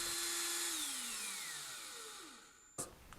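Ryobi P214/P1812 18V One+ cordless hammer drill with a 3/8 inch twist bit spinning down, a whine falling in pitch as the motor slows, then a sharp click and quiet.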